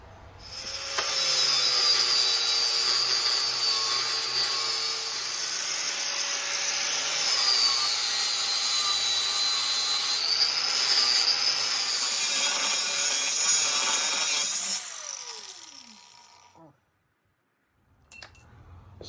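Cutting and grinding off the top frame tabs on a Honda XR650L motorcycle frame: a loud, sustained high-pitched abrasive whine running about fifteen seconds with a few shifts in pitch, then cutting out into near silence.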